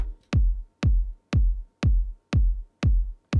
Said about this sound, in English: I have already loaded a kick sample here and it actually sounds like this.